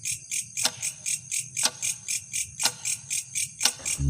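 Crickets chirping at night, a pulsing high trill in regular bursts roughly once a second, steady and clear with no voices.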